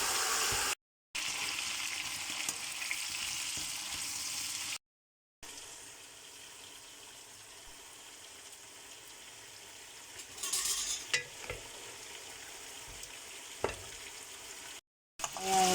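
Ingredients for a Filipino caldereta fry in a pan with a steady, close sizzle, broken by a few short silent gaps, with faint stirring and clinks partway through.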